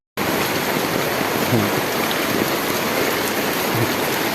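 Steady, dense rushing of flood water fills the whole clip, a constant broad hiss with no pauses and no voices.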